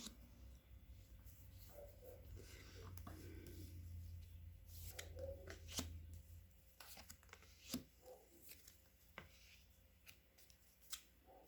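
Playing cards are shuffled and handled for a reading, with soft papery riffles, a low hum early on, then several crisp snaps and taps as cards are laid down, quiet and close.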